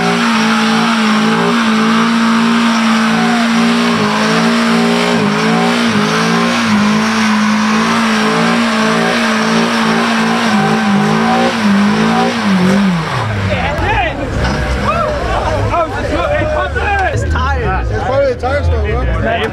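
A Volkswagen Scirocco revs hard at a car meet, the engine note climbing and bouncing before breaking into loud squealing tire spin for a burnout, with crowd voices and shouts mixed in.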